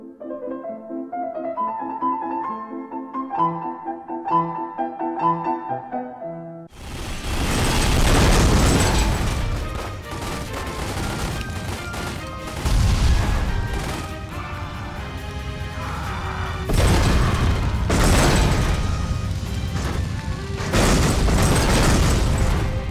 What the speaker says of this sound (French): il faut reconnaître que les explosions ne manquent pas de panache